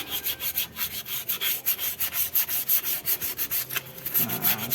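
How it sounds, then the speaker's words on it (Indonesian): Brake shoe from a Honda Brio being sanded by hand with sandpaper: rapid, rhythmic back-and-forth scraping strokes, close and fairly loud, continuing without pause and with no talking. "kita amplas."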